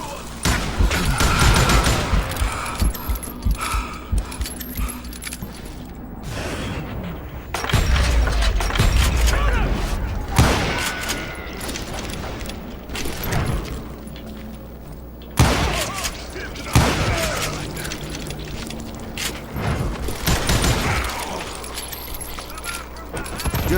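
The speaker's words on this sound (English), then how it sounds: "Curry opened up on me with a goddamn Gatling gun" Sustained rapid gunfire from a Gatling gun in the Western shooter Call of Juarez, loud bursts and booms over a long stretch, with shouting voices speaking over the barrage.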